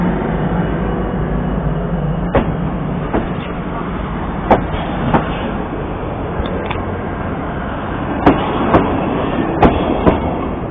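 A train passes at Andrychów station with a loud continuous rumble and scattered sharp metallic clicks and clanks from the wheels and cars.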